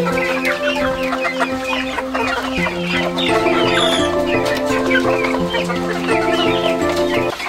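Free-range village chickens in a pen cluck busily and continuously, many birds calling at once up close, with occasional louder squawks over the steady chatter.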